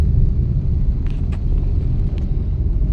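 Car engine rumbling steadily up close during a driving lesson as the clutch is pressed and second gear is selected for a speed breaker, a continuous low drone with a few faint clicks and no talk.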